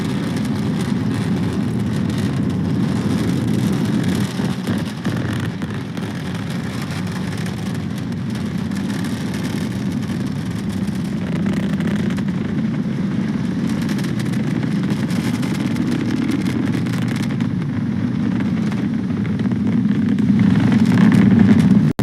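A loud, continuous roar of SpaceX Falcon 9 Merlin rocket engines during a GPS III satellite launch rumbles on for a long stretch, heavy and crackling, holding steady with slight swells.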